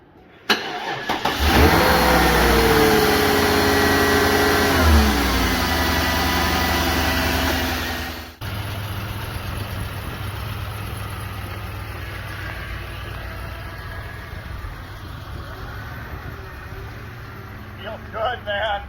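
A Cadillac being built into a NASCAR-style stock car fires up, revving loud and close for several seconds, then drops to a lumpy, rumbling idle, with people talking faintly alongside.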